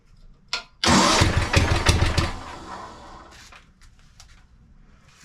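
A rare old tractor engine cranks and catches with a loud, close roar, settles into a rough, uneven idle that fades lower, and sputters near the end.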